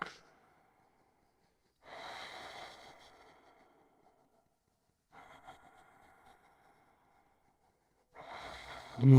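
A person doing yoga takes slow, audible breaths close by, three soft breathing passes spaced several seconds apart with quiet gaps between them. The last breath swells louder.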